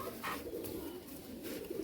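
Soft, continuous cooing of Giribaz pigeons fills the background, a low murmuring coo from several birds with no clear pauses.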